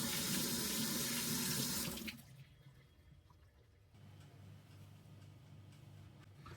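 Tap water pours loudly into a sink while apples are washed for apple crumble and cinnamon fried apples, then cuts off after about two seconds, leaving a quiet room with faint drips and low background hum.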